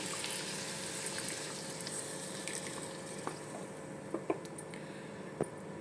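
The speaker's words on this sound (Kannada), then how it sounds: "ಈಗೈತಲ್ರಿ, ಇದಕ್ಕೆ ನೀರು ಹಾಕ್ಕೊಳ್ಳೋನು." Water poured into a pan of North Karnataka-style brinjal curry gives a steady, soft hiss and sizzle with a few faint clicks and bubbles, no voices.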